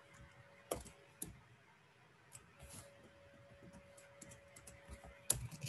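Sporadic typing on a computer keyboard during Python coding, scattered light key clicks with a few sharper taps, close and quiet with no talking.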